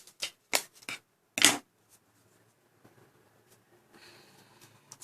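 Scissors cut paper for homemade web shooters in a few quick, crisp snips and rustles close up, followed by quiet handling sounds.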